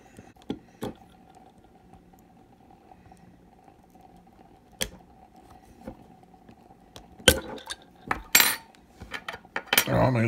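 Glass and metal clinks as a marble is worked out of a Ramune soda bottle, sparse sharp taps at first over a quiet hum, then a denser flurry of rattling clatters toward the end.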